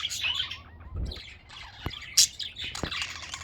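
Pet budgies chirp and tweet at breakfast time, a busy run of short, close, bright calls with brief squawky accents and no talking over them.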